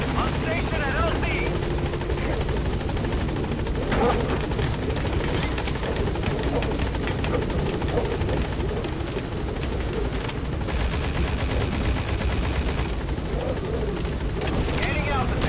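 The B-Quad helicopter from Metal Gear Solid V comes in to the landing zone with a loud, constant rotor roar and dense bursts of gunfire throughout. A voice is audible in the mix.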